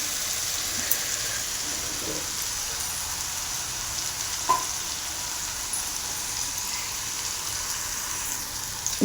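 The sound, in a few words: mixing fried okra into tomato in oil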